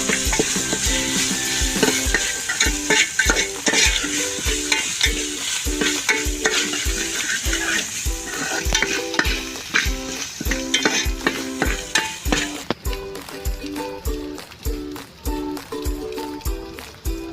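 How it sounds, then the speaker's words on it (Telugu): Ginger paste being stirred into frying masala in a pan, a steady rhythmic scraping of the spoon over a continuous sizzle, close and loud, with no talking. "ఇప్పుడు అల్లం పేస్ట్ వేసుకొని మనం కలుపుకోవాలండి."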